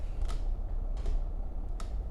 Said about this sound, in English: This is making like a clicking sound as it goes through.